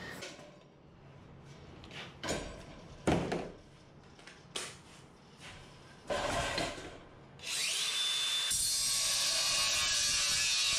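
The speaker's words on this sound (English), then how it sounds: "These diamond metal cutting blades are awesome for cutting welds." A diamond metal cutting blade bites into welds on a boiler, a series of short harsh grinding bursts followed by a long, steady high-pitched cutting whine near the end.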